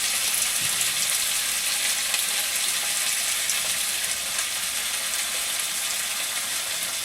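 Ginger garlic paste fries in hot oil as it is stirred through, a loud, close, continuous sizzle with faint scraping of the utensil and no voices.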